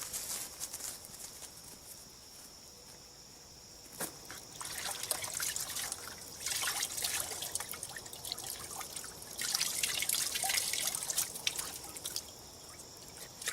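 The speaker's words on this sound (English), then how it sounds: "Letting them drip while I feed the animals." Water dripping and trickling from alum-tanned rabbit hides, irregular drips and soft dribbling splashes that come in bursts, quiet and close, with no talk.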